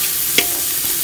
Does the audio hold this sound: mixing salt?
yes